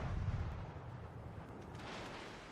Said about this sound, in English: No choice, I've got to open fire on this guy.